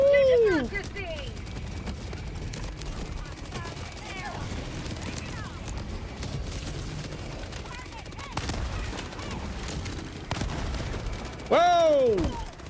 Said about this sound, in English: Airburst rocket launcher.